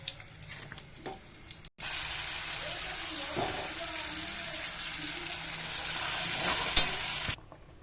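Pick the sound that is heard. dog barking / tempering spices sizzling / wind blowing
tempering spices sizzling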